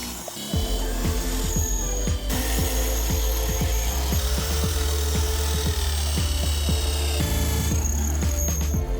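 Power drill boring 1/8 inch pilot holes and 3/8 inch holes for rock sliders clamped onto a Jeep LJ, a steady loud motor whine with repeated grinding bursts through the whole stretch, close up and without talk.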